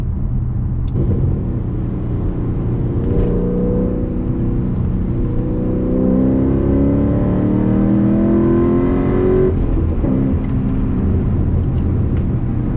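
A bagged and cammed HSV Clubsport Gen F sedan drives along, its engine rumbling loudly and steadily, revving up through a gear around the middle before settling back to a continuous drone.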